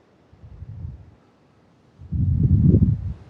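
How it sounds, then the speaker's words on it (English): Low, rumbling gusts of wind buffet the microphone, a short burst followed by a louder, sustained roar. "Whoa, it's windy."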